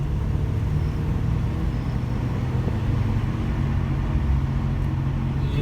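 A car being driven with a worn wheel bearing, giving a steady low road rumble and drone that holds at an even loudness throughout, with no voices heard.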